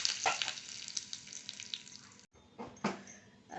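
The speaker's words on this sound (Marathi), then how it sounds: "आपली मोहरी तडतडली मी आता कढीपत्ता टाकते" Curry leaves hit hot oil where mustard seeds have already popped, a tempering for beetroot koshimbir. A loud, crackling sizzle runs steadily, breaks off briefly, then returns in sharper bursts.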